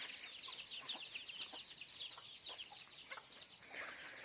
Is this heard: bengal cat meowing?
no